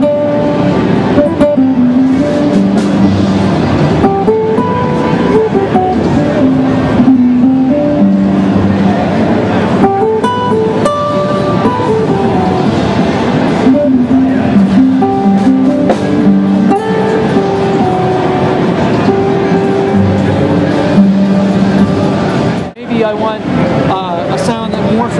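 A Yamaha Montage 8 synthesizer plays an expressive melodic line, its sustained notes swelling and changing tone continuously at full volume for about twenty-five seconds.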